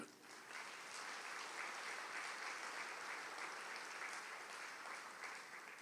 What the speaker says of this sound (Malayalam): ഒന്ന് കൈ ഉയർത്തി കൈയടിക്കുക